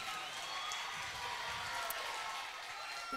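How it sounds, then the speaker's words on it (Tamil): Students applauding at a school Christmas carol service, a continuous soft patter of many hands clapping that sounds distant and fairly faint, steady across the whole stretch without a break. "மாணவர்கள் கரகோஷத்தினை வெளிப்படுத்தி மகிழ்ச்சியினை தெரிவித்துக் கொள்ளலாம்"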